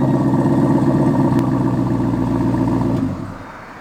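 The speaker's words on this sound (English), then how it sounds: "It does have a catback Corsa exhaust." A Pontiac G8 GT engine rumbles steadily through a deep, throaty Corsa catback exhaust, holding a low drone before easing off near the end.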